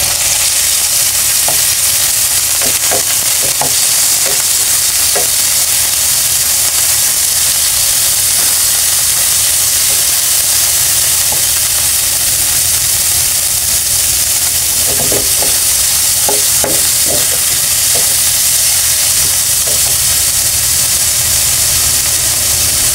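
Ground pork sautés in a hot pan with onion, a steady loud sizzle and frying hiss throughout, punctuated by clusters of scraping stirs and utensil knocks.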